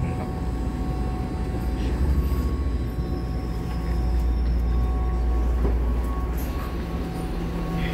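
An EMU electric multiple-unit commuter train pulls into a station in Taiwan, heard as a steady low rumble and hum of motors and wheels with faint high whines, continuous and fairly loud, without talk.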